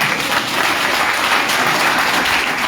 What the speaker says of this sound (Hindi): ताली बजा लो एक बार जोरदार।